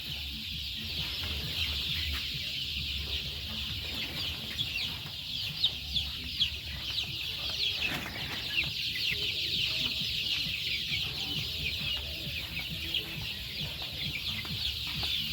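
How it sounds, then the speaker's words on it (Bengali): A flock of about a thousand young native chickens, 27 days old and weighing 200–250 grams, clucks and peeps densely and continuously throughout a farm shed, with no talk. "পুরো 1000 মুরগি আছে এখানে।"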